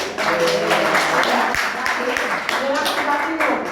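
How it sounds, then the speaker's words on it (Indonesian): A room full of people claps in a dense burst of applause, with voices mixed in. "Tepuk tangan buat Ibu."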